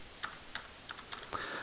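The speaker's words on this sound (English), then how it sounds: "now we can go ahead and start typing in the name" Keys on a computer keyboard click in an irregular burst of about six quick taps as a name is typed, close but soft over a faint steady hiss.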